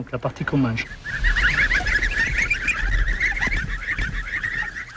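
Geese on a walnut farm in Périgord honk in a dense, continuous chorus that runs loud and steady through most of the clip after a brief opening of other noise.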